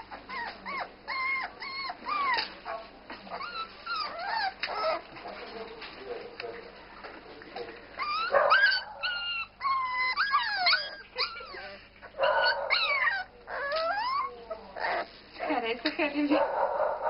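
Arti the dog whimpers, whines and yelps in rising, wavering cries, close and fairly loud, with a person's voice talking at times between the sounds.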